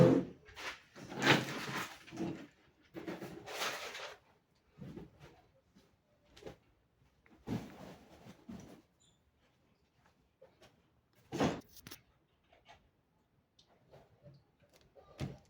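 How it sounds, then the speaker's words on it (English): Scissors snip through blouse fabric while an off-shoulder princess-cut bustier blouse is trimmed, giving close, crisp bursts in irregular clusters separated by quiet gaps, with no voices. "So I'll cut it off now."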